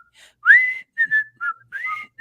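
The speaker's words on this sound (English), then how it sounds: "Oh, can you whistle?" A single person whistles a short tune: a few bright, clear notes with brief gaps, rising and sliding in pitch, close and loud with no other sound around it.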